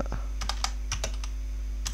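Fingers typing on a computer keyboard, a quick irregular run of close, crisp key clicks over a low steady hum.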